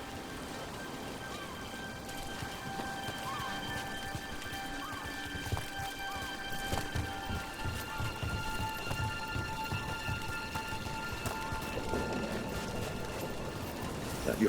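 Steady rain falls in a Dragon Age: The Veilguard game scene, a dense pattering wash with hoof-like clops and faint mechanical clinks in the background.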